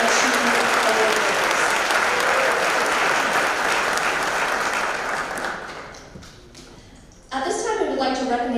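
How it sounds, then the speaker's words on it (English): Loud, dense applause fills a hall at a Basic Academy senior awards night for academic achievement, sustained for several seconds before tapering off, then a burst of voices and noise returns near the end. "Another round of applause for our academic"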